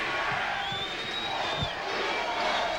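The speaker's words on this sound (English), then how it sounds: "The crowd's into it." Football stadium crowd cheering during a 1996 Northwest Missouri State vs Nebraska Omaha regional playoff game, a steady roaring wash of voices with a few thumps and a brief whistle, a commentator talking over it.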